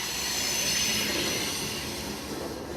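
An Amtrak train runs steadily along the rails, wheels squealing with a high metallic hiss over a low rolling rumble, continuous and fairly close throughout.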